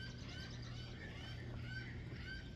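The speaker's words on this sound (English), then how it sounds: "if you like seagulls, they've got a lot of seagulls here" Seagulls call repeatedly at a marine park, several overlapping honking cries at moderate distance over a steady low hum of crowd and water.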